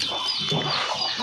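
A hen clucks briefly and close by in a farmyard, giving a short burst of throaty calls over faint background noise.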